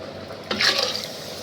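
Water pours into a pot of thick dal. Quiet at first, then a short close splashing gush with a faint clink of cookware, tapering off without any talk.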